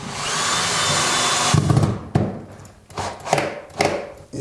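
A cordless power drill drives a screw into wood while a wardrobe is being put together: a steady whir for about a second and a half, then several short, sharp bursts close by.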